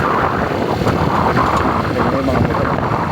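Motorcycles pass on a newly built bypass road between Binmaley and Lingayen, making a loud, close, continuous engine roar with no break across the few seconds.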